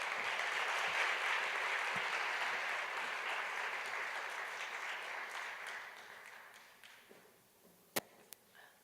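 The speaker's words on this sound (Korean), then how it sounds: "박수로 환영하겠습니다." A church congregation claps to welcome a guest speaker, the applause full at first, then thinning and fading away, ending with a few scattered loud claps or taps.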